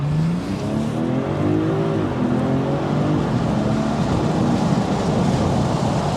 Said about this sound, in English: And then you turn on the sport mode so you can actually hear that exhaust.